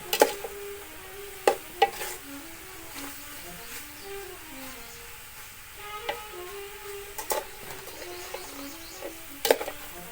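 Pork frying dry in a pan for hang lay curry, stirred with a spatula: soft sizzle under sharp intermittent scrapes and clacks at an irregular pace, fairly close, no talk.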